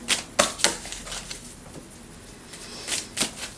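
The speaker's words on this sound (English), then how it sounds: "Weirdest shuffle ever." Tarot cards are shuffled by hand in quick riffling bursts, with crisp papery flutters near and fairly loud, separated by short pauses.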